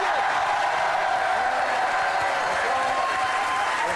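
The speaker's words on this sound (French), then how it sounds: "Je vous demande de faire un triomphe à Cadéo, qui sont avec nous." A French TV studio audience on a 2006 live variety show bursts into loud, sustained applause, dense and continuous throughout with no pause.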